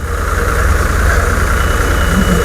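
Continuous heavy engine hum with a low pulsing throb and mechanical rattle, loud and close, running without pause, from a threshing machine driven by a New Holland tractor.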